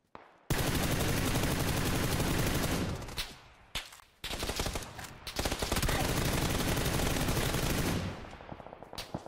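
Rapid automatic gunfire in the battle royale game PUBG, long loud continuous bursts broken by a few short gaps, heavy and close-sounding, with a voice talking briefly.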